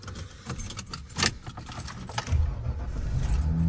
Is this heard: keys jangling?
yes